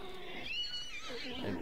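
Horse neighing in the video game Hunt: Showdown, a whinny at moderate distance rising and falling over under two seconds, set against game ambience.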